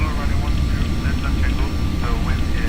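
A steady jet roar fills the cabin of an Embraer Phenom 300 in a flight simulator during an emergency descent, a constant low rumble with a faint high whine, while a voice talks over it.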